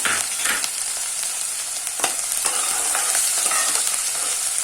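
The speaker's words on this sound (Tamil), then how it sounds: "அது கொஞ்சம் ஃப்ரை ஆகட்டும்" Finely chopped garlic from a whole bulb fries in a pan with pumpkin pieces for a sweet and sour pumpkin curry, giving a continuous close sizzle with small crackles and occasional scrapes.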